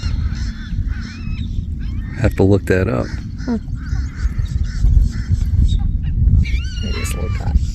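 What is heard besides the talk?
black skimmer calls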